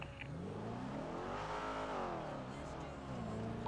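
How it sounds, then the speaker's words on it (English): A sports car in a roleplay driving game revs its engine hard, the pitch climbing and falling in a loud sweep with a hint of tire noise, close and dominant. "there's a local car that just revs his engine way too hard"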